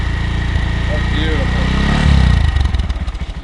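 A 2019 Honda Monkey's small motorcycle engine revving quietly and close by, a low steady drone that swells around the middle and then settles into a pulsing idle, with people talking over it.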